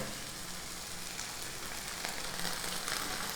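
Vegetables sizzle steadily in a hot pan as chili sauce goes in, a dense continuous hiss of frying with no break and no voice.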